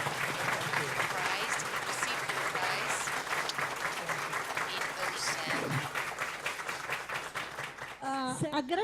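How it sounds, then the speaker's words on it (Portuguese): Large audience gives a long, sustained round of applause for a lecturer and Felix Klein Prize laureate at a mathematics course, dense clapping throughout with a voice speaking at the very end. "Uma salva de palmas bem grande."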